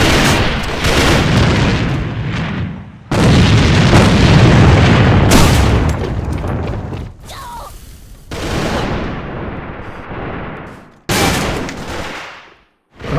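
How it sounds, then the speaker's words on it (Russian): Loud blasts and heavy gunfire in the online shooter AVA, with an enemy grenade going off among bursts of shooting that stop and restart abruptly, and brief spoken game alerts between the bursts. "Граната противника!"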